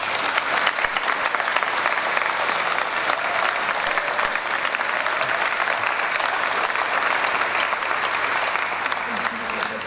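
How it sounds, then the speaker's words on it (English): An audience at a choir event applauds in a steady, dense wash of clapping that holds at an even level for about ten seconds, with no voices standing out. "A round of applause, please."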